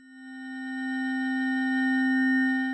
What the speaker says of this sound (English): if I just gently press down on a key